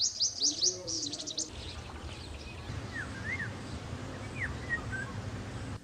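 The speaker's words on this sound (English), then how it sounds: "a multitude of garden birds fluttering around" Garden birds flit around a guest house lawn near the Khewra Salt Mine, with a burst of bright, quick chirps at the start followed by scattered thin calls over a low background rumble.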